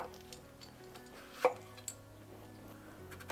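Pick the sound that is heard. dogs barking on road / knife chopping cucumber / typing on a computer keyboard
knife chopping cucumber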